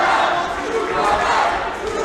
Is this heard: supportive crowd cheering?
yes